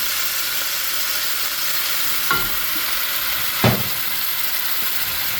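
Pork ribs fry in a pan after soy sauce goes in, a steady hissing sizzle with two brief scraping stirs, close up and with no voices.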